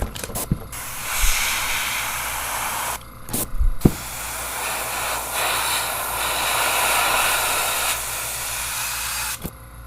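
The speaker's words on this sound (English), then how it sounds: "You can see it's a pretty quiet compressor." An airbrush fed by a quiet tank compressor sprays paint onto tabletop terrain, giving a steady close hiss that runs nearly throughout, broken by a couple of short gaps and soft clicks.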